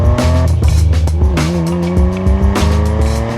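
A Nissan Skyline GT-R pulls away hard, its engine revving loudly through rising gears while tires squeal in short bursts, steady and close throughout.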